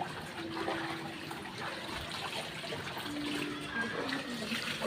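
Steady rushing floodwater, knee-deep on a road, flows continuously, a broad wash of sound with faint background noises mixed in, no clear speech.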